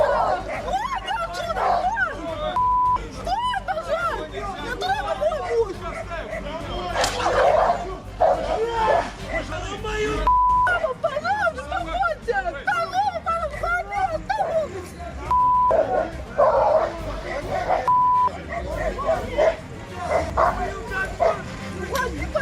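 Dogs bark, yip and whimper repeatedly through a tense street confrontation, close and loud amid shouting voices and general commotion, with brief beeping tones cutting in at intervals.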